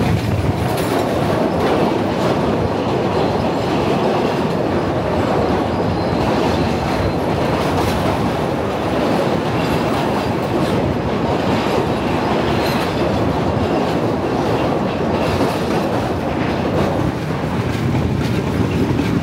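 A Sri Lankan passenger train runs along the coast between Colombo and Galle, heard from a doorway inside a non-air-conditioned carriage: loud, continuous rumble with rhythmic wheel clatter and occasional squeal, no talk.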